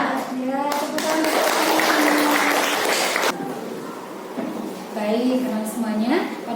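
A classroom of eighth-grade students claps their hands together in a burst of sustained, dense applause lasting a few seconds, with a teacher's voice speaking over and after it.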